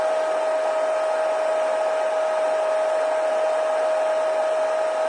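Hair dryer blowing on a mixed media butterfly card: a loud, continuous close-range whoosh with a steady motor whine, unbroken throughout.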